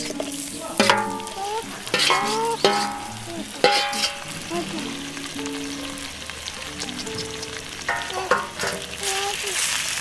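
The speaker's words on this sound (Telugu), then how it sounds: "మంచిగా నీట్గా కడుగు పెట్టుకున్న చికెన్ని ఇందులో వేసుకోవాలి ఫ్రెండ్స్" Washed chicken pieces with ginger-garlic paste fry and sizzle in a pan in village-style cooking, a steady close hiss broken by several sharp scrapes and clinks of stirring.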